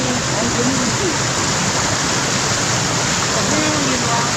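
A small waterfall in a rocky stream rushes in a loud, continuous wash of water, with voices faintly under the roar.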